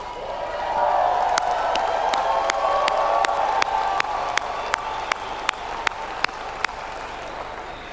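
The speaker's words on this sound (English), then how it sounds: "deserves a big round of applause" A training-event audience applauds staff, a broad crowd clapping with scattered cheers, joined by sharp, evenly spaced single claps standing out near the end.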